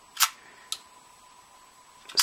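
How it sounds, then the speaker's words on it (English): An SLR film camera being wound and cocked on a shutter tester, with two or three crisp mechanical clicks and ratchets in a quiet room, separated by near silence and a faint steady hum. "Wind the camera,"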